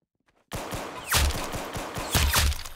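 Gunfire in the Roblox shooter Arsenal starts abruptly after a moment of silence, with a rapid string of sharp shots and a few heavier bursts at a steady close volume, no voices over it.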